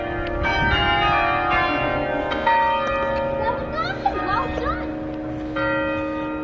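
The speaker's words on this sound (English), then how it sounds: "the bells have started again" Church bells of the Stump in Boston peal continuously with layered ringing tones, moderately distant, while a voice occasionally speaks faintly underneath.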